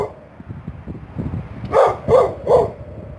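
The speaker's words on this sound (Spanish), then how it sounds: "¿Es brava esta perra?" A female dog gives three loud, close barks in quick succession after a stretch of people talking and low rustling.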